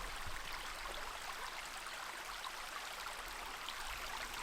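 A small creek flows along the Horn Canyon hiking trail in Ojai, California, giving a steady, even wash of running water that stays soft and continuous throughout with no voices.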